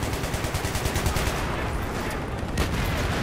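Rapid automatic gunfire in Battlefield 3, a dense, loud, continuous burst of rattling shots that briefly thins out and resumes, heard with no talk over it.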